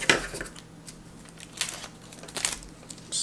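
Scissors snip through parchment paper during a model airplane build, giving a few sharp, crisp cuts spaced irregularly over quiet room tone.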